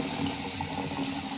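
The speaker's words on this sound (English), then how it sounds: "But there runs your water." Tap water runs steadily through freshly glued bathroom plumbing, a continuous near hiss and splash that holds at an even level throughout.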